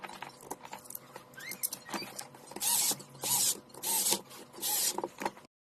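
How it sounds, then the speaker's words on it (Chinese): Screws being driven into the casing of a repaired power-tool battery pack, a series of scratchy, creaking mechanical turns with several louder bursts of grinding near the end, close and alone. "上好螺丝。"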